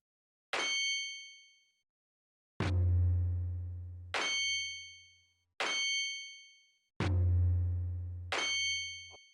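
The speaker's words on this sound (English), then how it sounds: "You missed and hit the town's bell instead." A town bell in a video game rings out as a missed strike: five metallic clangs in an uneven rhythm, some bright and ringing, others with a deep, booming low tone that decays slowly.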